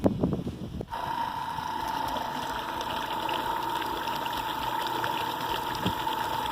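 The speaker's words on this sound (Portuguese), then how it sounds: "Ela tá bombeando água, uma quantidade legal, tendo em vista que esse motor tem uma rotação muito baixa." A homemade screw-type water pump driven by a low-speed motor works in a lake. A brief splashy start settles into a steady motor hum over continuous gushing water, with no speech.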